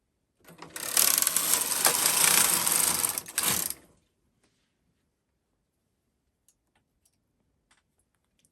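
A Brother KH-270 knitting machine carriage is pushed across a row, producing a loud rattling, clattering mechanical rush for about three seconds, then near silence with faint ticks.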